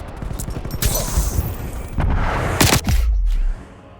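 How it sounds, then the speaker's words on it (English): Call of Duty gameplay on the Crossroads map, with loud rattling gunfire and booming shots, including a sharp sniper crack, over a dense rumbling background of battle noise that cuts off near the end. "there is one sniper shot that you're going to see in here"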